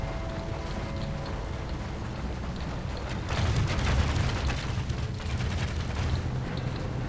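Culverin artillery bombards a wall in the Medieval II Total War siege battle game, a dense noisy din of battle with booming impacts swelling midway, steady and loud throughout.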